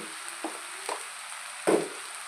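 Egg fried rice sizzling in a pan after chili powder, salt and turmeric go in, a soft steady fry with three brief louder scrapes of stirring, the last one strongest, and no voices.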